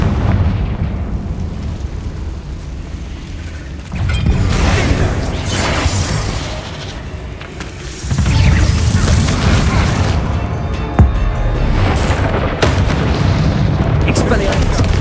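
Confringo spell blasts in Hogwarts Legacy burst out as heavy booming explosions in repeated waves, loud and close, over continuous game noise.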